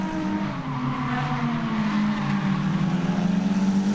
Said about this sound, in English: Joey Ritter in the chase position there in the Z33. I'd say these are very evenly matched cars